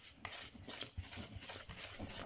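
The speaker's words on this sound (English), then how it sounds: "And now you just give it a mix." Pancake batter with a dab of syrup being mixed in a bowl: quiet, close, rhythmic scraping and light clinks of a utensil against the bowl, with no voices.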